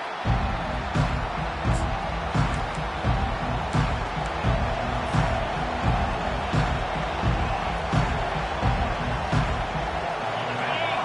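Stadium crowd noise in a college football video game between Tennessee and Texas A&M, a steady roaring swell of fans throughout, with rhythmic thumps and a commentator's voice talking over it.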